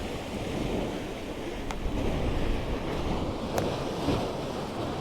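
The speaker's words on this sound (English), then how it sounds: "there's actually a tunnel cave that comes through, and that's how the water's getting in" Sea water surges and washes through a tunnel cave at Bufador near S'Illot, Mallorca, a continuous rushing roar of surf mixed with wind, steady and fairly loud with no voices.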